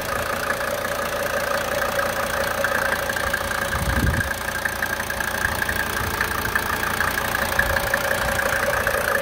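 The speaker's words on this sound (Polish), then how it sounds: "Pół obrotu rozrusznika i auto chodzi." A Mercedes-Benz W124 E250 turbodiesel idles with a steady, even diesel clatter and hum at close range, holding a constant level throughout with no speech.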